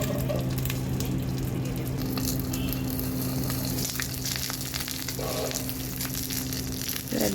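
Paneer paturi frying in a covered pan, a continuous close sizzle with soft bubbling that holds throughout, a few faint clinks and scrapes over it, no voices.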